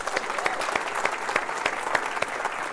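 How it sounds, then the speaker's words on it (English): An audience at a think tank event gives a round of applause for people still standing, a steady even wash of many hands clapping without pause. "can we get a round of applause for the folks still standing?"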